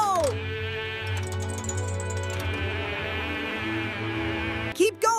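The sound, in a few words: cartoon sheep bleating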